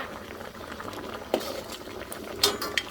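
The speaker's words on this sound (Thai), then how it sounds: "ให้เขาเดือดอยู่อย่างนี้ไม่ต้องไปพลิกไปอะไร" Sea bass pieces boil in a pot, giving a steady bubbling simmer with occasional soft knocks of a utensil against the pot.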